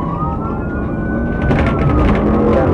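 A wailing police car siren sweeps through its cycle during a high-speed chase, loud and close over rushing road and engine noise.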